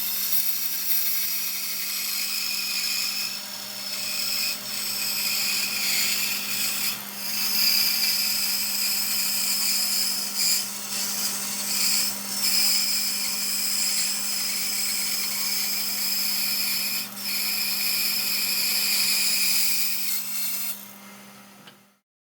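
Bandsaw cutting a wooden template in a home workshop: a loud, continuous whining motor hum with a bright high-pitched blade hiss that holds steady for about twenty seconds, with brief bursts of cutting noise, then stops abruptly at the end.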